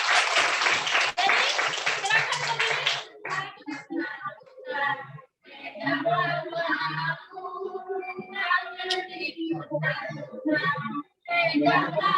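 Students in a classroom clap together in a dense burst of applause lasting about three seconds, after which a teacher's voice talks on alone.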